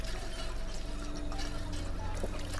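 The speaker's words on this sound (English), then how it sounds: "there is a water pump" Water running from a water pump in the video game Fallout 4, a steady pouring, trickling flow with small drips, heard alone at moderate volume.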